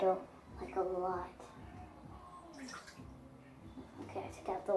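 Water is poured off a batch of homemade slime in a bowl, soft watery splashing and dribbling mixed with intermittent voices talking over it.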